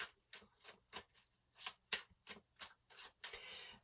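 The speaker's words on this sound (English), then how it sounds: "I'm going to pull the rest of the cards" Tarot cards are drawn one after another from a deck, making a quiet, close series of soft papery flicks and slides in an even rhythm, about a dozen in a few seconds.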